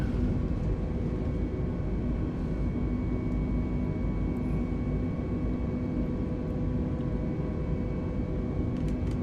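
Airbus A320neo jet rolling down the runway on takeoff and rotating, a steady loud engine roar heard from inside the cabin throughout.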